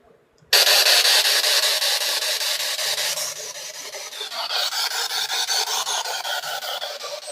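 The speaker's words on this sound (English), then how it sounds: "So I'm going to go ahead and turn on the SB7 spirit box." SB7 spirit box radio sweep switching on abruptly into harsh, hissing static that pulses rapidly as it scans through channels, loud and steady at first and then slightly fluctuating, with no clear talk.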